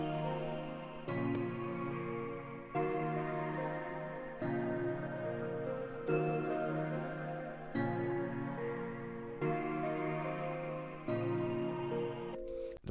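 A melody loop built in FL Studio with the flute part removed plays alone, with sustained chord layers restarting in regular bar-length phrases and bright plucked accents near the start of each one.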